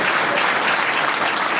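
An audience at a recognition event in Zambia claps in dense, continuous applause, loud and close, with no distinct voices.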